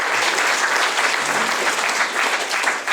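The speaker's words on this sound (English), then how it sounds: "Can we just have a round of applause on that?" Audience at a distinguished alumni awards ceremony breaks into loud, dense applause, a continuous wash of many hands clapping at an even level throughout.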